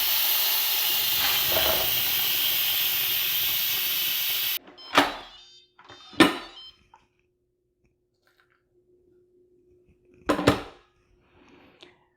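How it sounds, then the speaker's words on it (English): An Instant Pot vents its pressure with a loud continuous steam hiss that cuts off abruptly, followed by a few short sharp bursts and quiet gaps between them. "I'm going to release the pressure."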